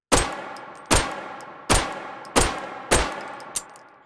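Five sharp pistol reports from a Bergmann Simplex firing 8mm Bergmann in the VR shooter H3VR, evenly spaced and fairly rapid, each a crisp bang with a short ringing tail, followed by a faint metallic click.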